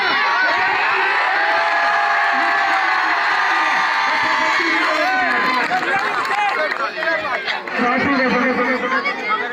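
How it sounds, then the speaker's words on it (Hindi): A crowd at an outdoor Christmas weightlifting event cheers for a lifter raising 132 kilograms, loud shouting, whoops and excited chatter with children's voices, dense and close throughout, with people talking over it. "यूसुफ भाई के लिए जोरदार तालियां"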